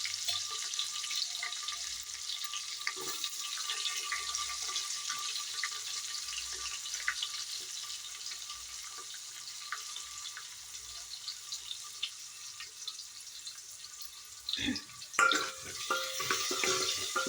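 Small onions frying in oil with mustard seeds for a greens kadaiyal, a soft, continuous hiss of sizzling with a short clatter of utensils toward the end.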